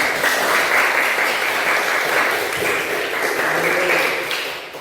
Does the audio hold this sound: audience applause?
yes